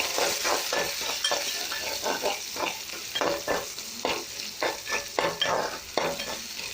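A tempering of mustard seeds, green chillies, curry leaves and onion pieces sizzling in hot oil, with bursts of crackling and popping and stirring scrapes, close and steady with no talk.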